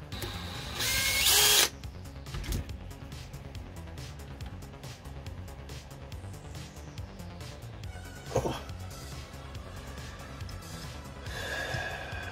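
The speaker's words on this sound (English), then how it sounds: "And the screw just breaks." A power drill drives a screw into an Evolution airsoft gun until the screw snaps: one loud, close whining burst of under a second, then quieter handling clatter and a sharp knock.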